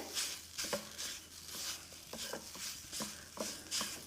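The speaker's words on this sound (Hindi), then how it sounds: "इस तरह से डाल के हमें इसको 10 से 15 सेकेंड हाई फ्लेम पे पका लेना है" Grated raw potato mixture cooks in a pan on a high flame, giving a steady sizzle with repeated scraping stirs of a spatula against the pan, close and alone without talk.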